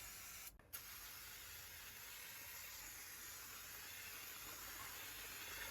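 Brake cleaner hisses as a steady aerosol spray onto a brake caliper, continuous and close up, with a brief pause near the start before the spray resumes and holds.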